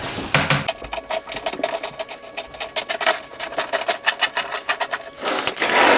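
Power tool taking out three bolts on a C6 Corvette during a side rocker install, rapid close ratcheting bursts in quick rhythmic pulses, loud and alone for several seconds before winding down.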